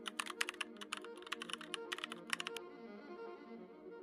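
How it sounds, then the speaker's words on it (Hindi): Quick typing on a computer keyboard while entering a web search, a fast run of crisp clicking keystrokes for about two and a half seconds, then quiet room tone. "अगेन सर्च बार में जाकर माई इंस्टेंट टाइप करना है।"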